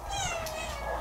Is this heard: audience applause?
no